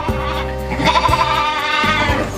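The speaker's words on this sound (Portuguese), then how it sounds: "Então são as ovelhas no pasto, tá?" Sheep bleat out in a pasture on a dairy farm that makes cheese. Several loud, wavering calls overlap close by, with a higher voice cutting through in the middle and no talk.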